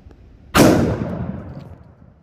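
A .500 caliber rifle fitted with a muzzle brake fires one factory load outdoors, producing a single sharp, loud blast followed by a rumbling echo that fades over about a second and a half.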